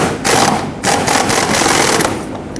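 A ratchet rapidly snugs up the fuel tank strap bolts on a 2007-2014 Chevrolet Silverado 2500 HD. The ratcheting comes in quick, loud bursts of clicking, with short pauses between them, close to the listener.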